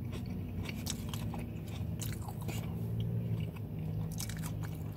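Close, quiet crunching and chewing of a Hot Heads burrito bowl, with repeated bites and soft scrapes of the utensil against the bowl over a low background rumble.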